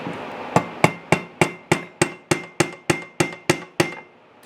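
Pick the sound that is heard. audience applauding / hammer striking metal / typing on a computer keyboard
hammer striking metal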